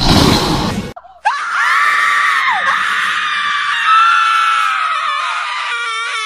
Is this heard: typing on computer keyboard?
no